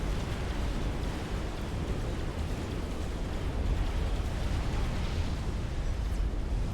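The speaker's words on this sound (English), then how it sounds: "Every time I hear one of those, I still wish they would change the audio for the support commander pops" Dense, rumbling explosion noise of support commanders popping in the real-time strategy game Supreme Commander, a steady, loud wash of blasts with no clear gaps, overlapping continuously, with no voices.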